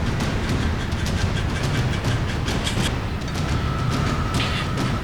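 Jazz percussion imitating a train plays back as a recording, a steady rolling clickety-clack rhythm with brushed, rattling hits running continuously and fairly loud throughout, with no voices.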